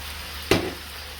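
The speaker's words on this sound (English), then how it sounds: "So now that we've done this, we just add the potatoes." Potatoes, one large and one medium, drop into a hot pan for potato kofta, giving one sudden close sizzle that flares and then fades quickly.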